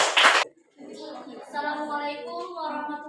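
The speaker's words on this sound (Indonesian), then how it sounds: "tepuk tangan dulu untuk kelompok 2" A brief burst of classroom clapping for a student group lasts under half a second, then stops and gives way to children speaking together in a sustained chant.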